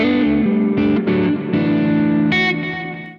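Electric guitar preset played through a Quad Cortex modeler, giving a few loud, processed chords with distortion and modulation, sustained and ringing out before fading at the end.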